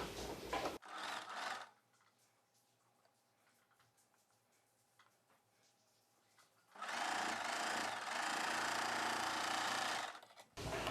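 A sewing machine runs in two bursts, a short one then a longer steady whirring run, as it stitches two folded blouse edges together, with quiet handling in between.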